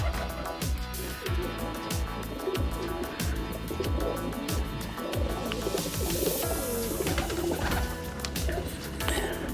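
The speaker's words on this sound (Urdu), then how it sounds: "سارے کمانگر کبوتر ہیں، ایک ہی بلڈ لائن ہے." Many Kamanger pigeons coo together in a dense, overlapping chorus with a steady rhythm of low throaty calls, plus occasional rustling and wing sounds.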